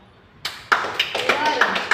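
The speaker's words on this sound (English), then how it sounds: "Clap hands for her." A small group in a nursing class on intramuscular injection starts clapping, with sharp claps of uneven rhythm following a short quiet start, while voices carry on underneath.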